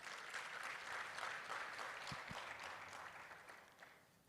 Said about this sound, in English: Let's appreciate them with a loud round of applause.